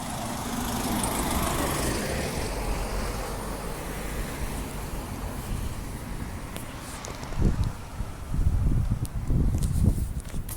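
Transperth bus idling at a temporary stop, a steady low engine rumble with wind noise, rising into heavier, louder bursts near the end as the engine works harder.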